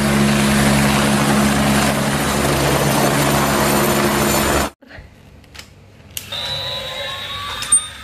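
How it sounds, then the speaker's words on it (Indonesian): A toy helicopter's electronic sound effect plays as a loud, steady whirring drone that cuts off abruptly after about four and a half seconds, leaving quieter handling noises. "Wow, lihat teman, di sini ada sebuah helikopter."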